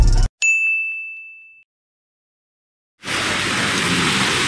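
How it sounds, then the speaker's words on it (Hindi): Heavy rain falls in Gangtok, Sikkim, a steady loud rushing hiss that starts abruptly and continues alone after a short bright ding and a stretch of silence. "बारिश जो है बहुत ख़तरनाक बारिश हो रहा है।"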